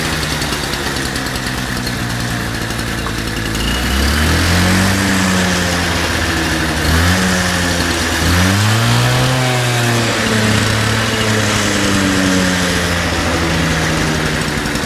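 A 1973 moped's small two-stroke engine, started by pedalling, runs loud and close with a buzzing idle, rising in pitch in a few revving surges before settling back, with no talking over it.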